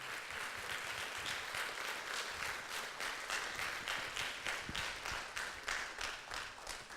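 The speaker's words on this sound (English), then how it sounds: "Another round of applause" Sustained applause from a conference audience after a talk at a Hague Talks session: dense, even crowd clapping, moderately distant, with no voices over it.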